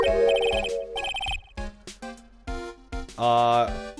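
Phoenix Wright: Justice for All video game with a phone ringing, a bright electronic ringtone melody in repeated bursts, loud and in the foreground.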